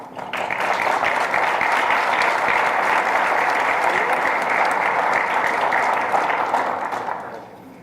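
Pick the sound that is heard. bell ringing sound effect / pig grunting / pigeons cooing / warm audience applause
warm audience applause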